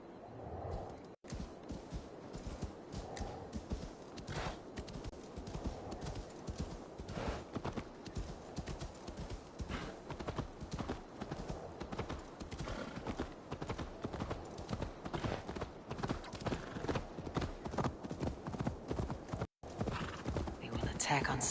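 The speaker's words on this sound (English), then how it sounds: "that horse looks awesome." Steady clip-clop of horse hooves at a walking rhythm in the video game Assassin's Creed Valhalla, close and continuous, with someone talking quietly over it.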